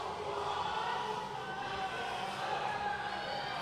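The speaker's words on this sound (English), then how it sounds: "Crowd getting behind her in there." Crowd cheering on a woman powerlifter at a USAPL Georgia meet, a steady broad roar of voices holding at an even level throughout, with no distinct claps or pauses.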